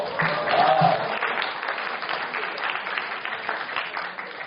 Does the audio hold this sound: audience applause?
yes